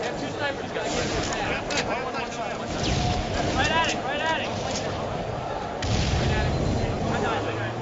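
Rocket launcher fire in a competitive Halo-style match at an MLG Toronto 2008 tournament, booming blasts under a caster's steady commentary and crowd babble.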